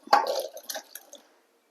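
Chopped elephant foot yam pieces drop into water in a pressure cooker for an Onam curry, giving a short close splash and a few soft wet plops before silence.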